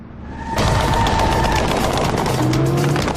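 Dramatised machine-gun fire during the Entebbe raid as Ugandan soldiers spray vehicles with bullets: a sudden loud burst starting abruptly and continuing as dense rapid fire for about three seconds, alone without speech.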